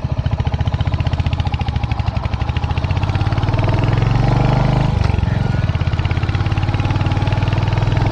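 A motorbike engine labours loudly and steadily while climbing a steep mountain road on a ride to a tent town in Nepal, its drone rising in pitch partway through.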